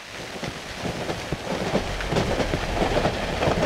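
Train carriages rattling in the horror video game Cry of Fear, a continuous low rumbling clatter with irregular metallic knocks that grows slightly louder over the stretch, with no talking.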